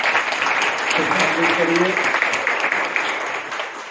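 Audience applause for the speakers at an International Women's Day gathering, a steady patter of clapping heard under a voice, fading slightly at the end.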